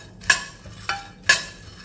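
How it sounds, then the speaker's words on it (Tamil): Nuts dry-roasted in a kadai while being stirred, three crisp metallic scrapes and clinks of a spoon against the pan, evenly spaced and close, over a faint low hum. "இப்போ அதே கடாயில் நம்ம இந்த நட்ஸை பூரா நம்ம போட்டுக்கிடுவோம். இதை அடுத்ததில் வறுத்துக்கிறோம்."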